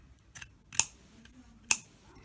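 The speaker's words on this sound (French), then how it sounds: "Et je vais le couper" Two sharp scissor snips cut a piece of material while removing UV nail polish, each a crisp close click, with a softer snip before them in a quiet room.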